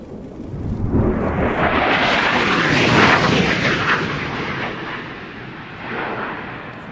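A MiG-29 fighter jet makes a display flypast on dry power, a loud roaring jet that swells to a peak as it passes, then fades into a fading rumble.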